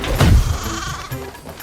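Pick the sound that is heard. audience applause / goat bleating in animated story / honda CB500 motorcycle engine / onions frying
goat bleating in animated story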